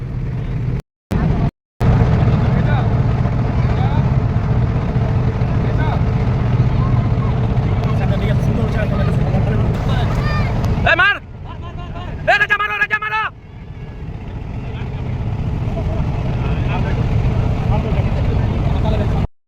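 A motor trawler cruising on the Padma river, its engine giving a steady, loud low drone for most of the stretch, with a few brief gaps and a short dip near the middle; people can be heard talking over the engine noise.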